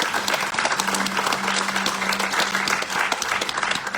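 A church congregation applauds in praise of the King of Kings, dense steady clapping filling the room for about four seconds, with a faint sustained tone beneath.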